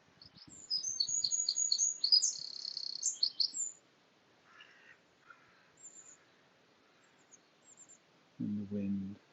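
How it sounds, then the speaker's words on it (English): A burst of high, rapid bird chirps fades into sparse, distant calls, then a short low sound near the end. "Notice the sound of the birds."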